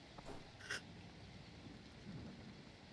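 Rain heard through an open window: a steady, faint hiss of falling rain with a soft rumble of distant thunder beneath it, and no voices.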